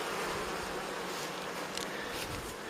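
Carniolan honeybees buzz actively around nucleus hives being readied for winter, a steady dense hum that holds evenly throughout at moderate level with no talk.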